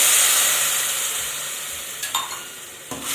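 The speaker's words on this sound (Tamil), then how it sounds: "இதில் 1 டம்ளர் தண்ணி ஊற்றணும்." Egg curry masala with curry powder, coriander and cumin sizzles in a pan as water is poured in, giving a steady broadband hiss that slowly fades, with a couple of brief stirring knocks near the end.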